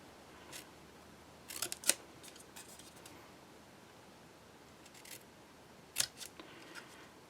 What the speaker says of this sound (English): I just cut it with some really sharp scissors.